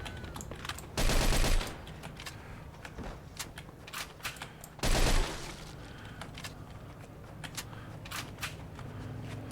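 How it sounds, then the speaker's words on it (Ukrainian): Two loud bursts of rapid gunfire in the video game Mafia 2, each lasting about half a second, stand out from a background of clicks and scattered clatter. "Поліцейський чув постріл"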